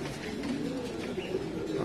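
Pouter pigeons at a pigeon fanciers' market in Casablanca give soft, low throaty coos that swell and fade, close by, with faint background bustle and no speech.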